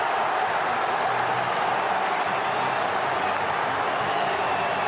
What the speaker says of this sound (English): Look what it means to the sellout crowd in the Swansea.com stadium.